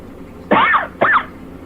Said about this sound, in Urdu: بیچ میں کھانسی آ گئی